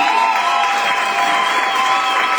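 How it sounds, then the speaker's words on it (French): Sustained applause and cheering from a crowd of wedding guests celebrating the bride and groom, a dense, steady wash of clapping and voices that holds at the same loud level throughout. "On applaudit."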